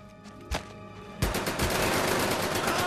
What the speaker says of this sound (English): Pull out the SMG.